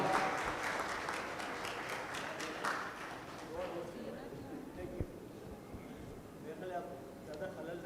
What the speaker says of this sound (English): A huge round of applause for Mr. Atif Rais Khan